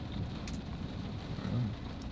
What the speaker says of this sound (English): I'm hearing it's raining